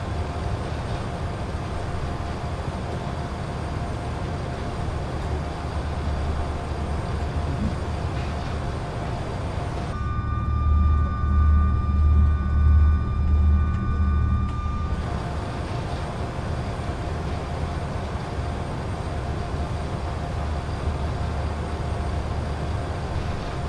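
Embraer E190 jet in Microsoft Flight Simulator, rolling for takeoff from Buenos Aires: a steady, broad engine roar holds throughout, deepening and swelling into a louder low rumble midway, with no talk over it.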